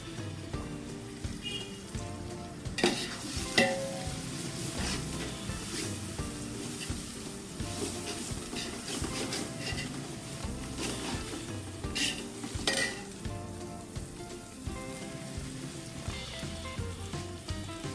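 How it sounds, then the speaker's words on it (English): Mutton biryani being stirred and fried in a pan, with a steady soft sizzle and scraping spoon strokes, close and even throughout without talk. "Now add the green chili and stir well."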